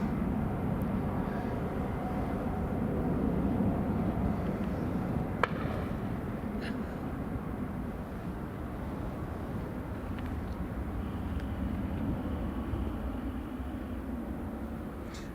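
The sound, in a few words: Boeing 737-800 taxiing onto the runway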